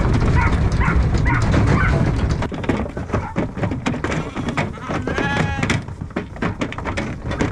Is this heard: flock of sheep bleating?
yes